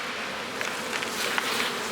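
Agitated honeybees buzz steadily in a nuc hive box beside frames of pollen and capped brood, a dense, close hum with a few sharper individual wingbeats rising briefly out of it.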